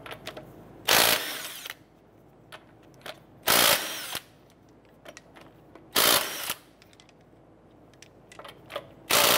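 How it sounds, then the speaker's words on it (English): A power tool with a 19 mm socket spins off lug nuts on a 2008-2012 Honda Accord wheel, four loud short bursts of whirring and rattling separated by quiet pauses, no talk. "19 millimeter socket, we're gonna go ahead and remove our lug nuts."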